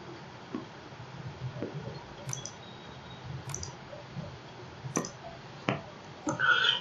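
Sharp, isolated computer mouse clicks, about five or six spaced a second or so apart, sound close over a low background hiss while working in building design software, with no voices.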